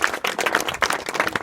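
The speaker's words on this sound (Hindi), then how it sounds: "चलो ताली बजाओ इन दोनों बच्चे के लिए।" Students at an inter college clap together in a classroom for two children, a quick run of sharp, close claps in a steady rhythm.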